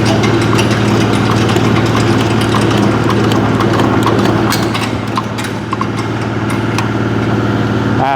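A cranked hammermill engine for animal feed processing runs continuously, a loud, steady, rhythmic thumping drone with a low-pitched hum throughout, close and alone.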